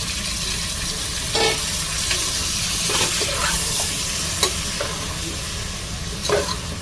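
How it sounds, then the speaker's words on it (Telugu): Chopped tomatoes fry with taro in a pan, a constant close sizzle broken by scattered scraping and stirring knocks of a spoon, with no one talking. "టమాటాని బాగా వేయించుకోవాలి."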